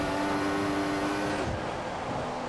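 A Formula One race car in the F1 2014 video game revs hard with a loud, high engine whine that holds steady, then drops away after about a second.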